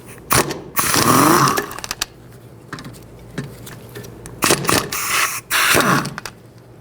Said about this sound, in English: you can use a impact driver and remove these